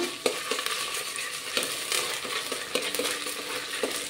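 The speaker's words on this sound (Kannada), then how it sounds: "ಈಗ 1 ಸ್ಪೂನಷ್ಟು ಶುಂಠಿ ಬೆಳ್ಳುಳ್ಳಿ ಪೇಸ್ಟ್ ಹಾಕ್ತಾಯಿದ್ದೀನಿ. ಇದರ ಹಸಿ ವಾಸನೆ ಹೋಗೋ ತನಕ ಇದನ್ನು ಹುರ್ಕೊಳ್ಬೇಕು." A spoonful of ginger garlic paste fries in hot oil while a spoon stirs and scrapes the pan: a steady dense sizzle with light clinking scrapes throughout, close up and without any talk.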